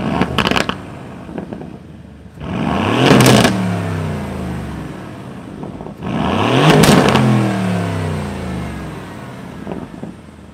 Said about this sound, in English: Okay, I love the exhaust note in this.